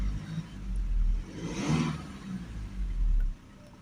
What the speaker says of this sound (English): So I'll just start the vehicle up, have it running, give it a few revs up and down.